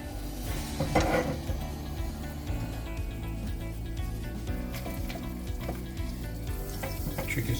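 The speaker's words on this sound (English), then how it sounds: "We'll melt the butter." Unsalted butter melting in a hot pan gives a steady, close sizzle and crackle that holds throughout, with light scattered pops and no voices.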